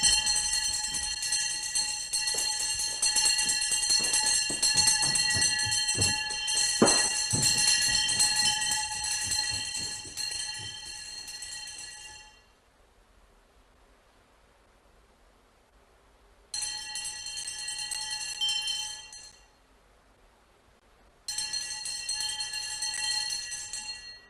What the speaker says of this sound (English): The day of the training monks begins with the wake-up bell.